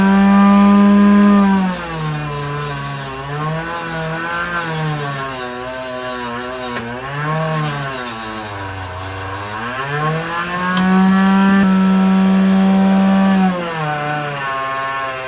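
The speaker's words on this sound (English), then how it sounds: "We're going to clean the springs and inside this knife here with the wire brush and the fiber wheel." A spinning wire brush and fiber wheel whine steadily against an old Case XX pocket knife, their pitch sliding up and down as the pressure on the springs and liners shifts, loud and close.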